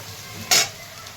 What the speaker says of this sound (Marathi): आता यामध्ये तुकडे टाकून घेत आहे